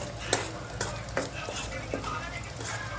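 Onions and spices frying in a pan as they are stirred, with soft sizzling under a few distinct scraping strokes of a spoon, close and fairly quiet.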